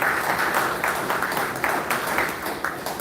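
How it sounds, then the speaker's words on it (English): A community audience at a city meeting on a solar panel project claps for itself, a thick, steady patter of many hands filling the room for a few seconds. "Clap for yourself."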